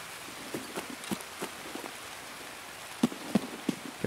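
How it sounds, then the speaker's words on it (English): Steady rain pattering on surfaces in the video game Escape from Tarkov, a constant wash of noise with occasional sharper taps and thuds, some louder hits near the end. "the rain is so loud it drowns out people's mics"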